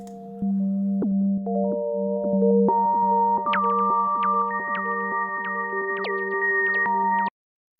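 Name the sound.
slow atmospheric synthesized wind chimes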